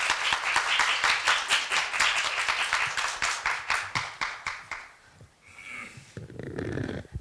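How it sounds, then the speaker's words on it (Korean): A university audience claps loudly to welcome a professor at a Korea University arts festival. The steady, dense applause lasts about five seconds, then fades out into quiet room noise with faint shuffling. "여러분 큰 박수로 맞이해 주십시오."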